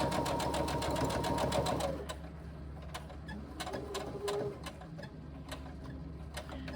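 A sewing machine stitches a tote bag seam with a fast, steady whirring run for about two seconds, then slows into softer, spaced ticks and clicks, close and without talk.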